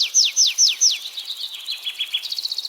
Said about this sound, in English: birds की chirping की आवाज आ रही है